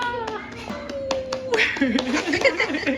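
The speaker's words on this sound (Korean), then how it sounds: "박수. 박수." A few hand claps at a kids' trampoline play café, sharp and close, mixed with a child's and an adult's voices and bright play noise.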